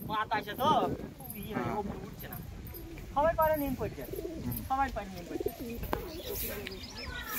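Pigeons in a loft coo repeatedly in short rolling bursts close by, with someone talking over them throughout and light chirps and movement in the background.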